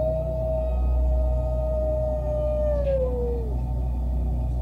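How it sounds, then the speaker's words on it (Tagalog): An eerie dog howl, used as a sound effect in a horror tale set in a remote village: one long sustained wail that bends downward at the end, heard alone over a steady low hum. "nang marinig ang nakakakilabot na alulong na yon ng aso"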